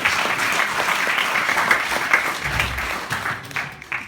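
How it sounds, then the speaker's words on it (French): Audience at a hypnosis stage show applauds, a steady burst of many hands clapping for about four seconds, with a voice speaking faintly over it midway. "On peut l'applaudir."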